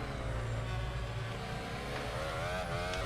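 A Formula 1 car's engine in the video game F1 2021 at the Portimao circuit hums continuously, its pitch rising and falling in short stabs as the throttle is feathered, steady and loud throughout.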